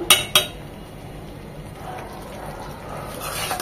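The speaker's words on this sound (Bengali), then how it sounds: "খুব ভালোভাবে মিশিয়ে নেব।" Beef being mixed with lemon juice, vinegar and salt in a pot: two sharp metallic clinks of a spoon against the pot open, then a soft, wet stirring and scraping continues quietly.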